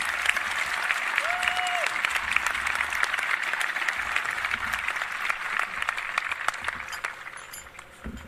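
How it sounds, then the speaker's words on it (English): Audience applause at a Karns High School graduation ceremony, a steady dense wash of clapping from a large crowd that holds for the whole stretch and tapers slightly at the end, with a brief tonal squeal early on. "Let's give Avery a round of applause"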